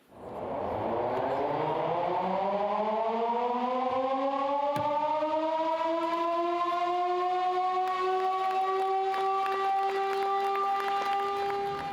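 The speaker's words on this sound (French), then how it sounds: "Après 50 ans de silence, la sirène a de nouveau fait écho dans l'immense nouvelle halle verrière de Meisenthal" An old glassworks siren winds up from a low growl to a loud sustained wail, echoing through the vast new glass hall at Meisenthal and holding steady for the full length.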